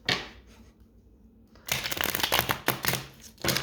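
A deck of tarot cards is shuffled up close, a soft rustle followed by a burst of quick, crisp riffling flutters.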